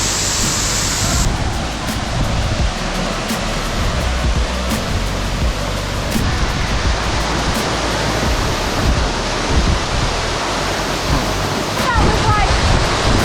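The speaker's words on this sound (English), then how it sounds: "I want to go under the waterfall and see what it feels like" Steady, loud roar of a waterfall on the Three Pools to Avocat hike in Trinidad, heard close up as broadband rushing water that fills the whole clip, with no talk.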